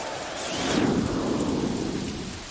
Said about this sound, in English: Sam, it's raining.